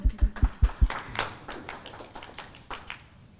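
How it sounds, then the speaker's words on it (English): Applause for a startup presenter at a semi-final pitch event, opening with a few heavy, close rhythmic claps, then scattered lighter clapping from the audience that thins out. "A warm applause."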